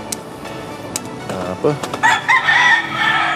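Chickens at a backyard coop beside a house, clucking and calling in short bursts that grow busier toward the end, set against steady outdoor background noise.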